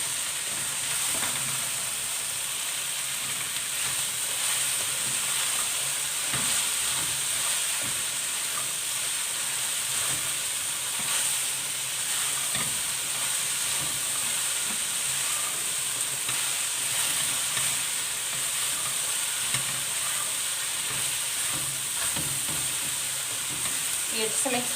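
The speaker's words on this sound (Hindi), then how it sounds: "अब हम इसमें अपनी 1 kg जो हमने भिंडी ली थी वो ऐड कर देंगे। अच्छे से मिक्स कर देंगे इसे।" A kilo of okra (bhindi) fries in masala while it is stirred. A continuous close sizzle runs underneath repeated soft scraping and clacking of the spatula, with no talking.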